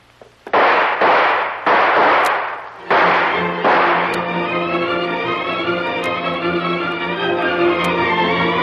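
Gunshots in an old radio drama set in a natural cave with built tunnels ring out as several loud, sharp bangs in quick succession, followed by a sustained ringing tone.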